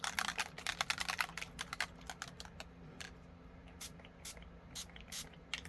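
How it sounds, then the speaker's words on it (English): Short hissing bursts of mica spray mist over a paper collage, a rapid series of close, fairly quiet spritzes that thin out into occasional single sprays. "I'm going to spray a little mica over all of it"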